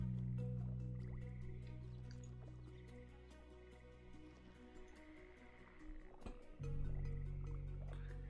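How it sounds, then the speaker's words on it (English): The Rain of Frogs spell effect in the video game Stormbound plays as wet dripping, squishy pops and croak-like blips over sustained game music, with a louder splat near the end. "And then Rain of Frogs."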